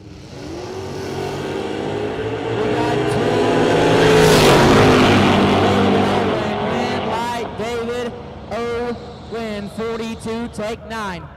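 A drag racing pickup truck's engine roars up to a loud peak and fades as it races off down the strip, followed by an announcer talking over the track noise.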